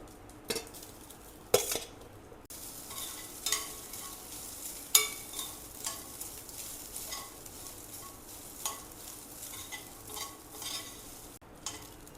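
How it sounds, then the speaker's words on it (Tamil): Cooked rice being stirred into a coconut rice mixture in a pan, with quiet repeated scrapes and clinks of a spoon against metal and faint sizzling underneath. "இது கூட ரைஸ் போட்டு மிக்ஸ் பண்ண போகிறோம்"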